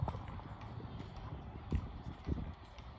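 Pony hooves clip-clopping on the ground, a few irregular thuds and knocks heard fairly faintly against a quiet background, with two louder hoof strikes near the end.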